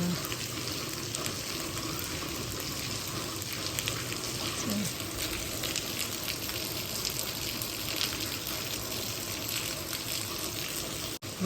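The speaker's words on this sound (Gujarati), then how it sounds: "અને જો વરસાદ પણ આવી રહ્યો છે ધોધમાર, એ હું તમને બતાવું." Torrential monsoon rain pours down outdoors, a dense, even hiss of water that stays constant and fairly quiet throughout without a break.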